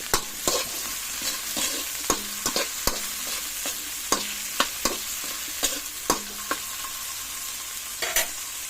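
Spatula stirring chayote and taro in a frying pan, a close series of sharp scraping clacks against the metal over a steady low sizzle of sautéing vegetables, with no voices.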